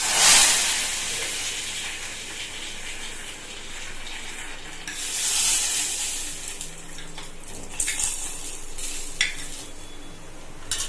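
Tempering for beetroot rasam sizzling in hot oil with dried red chillies, a loud hissing burst at the start and again midway, then a steady crackle with occasional pops and no voices.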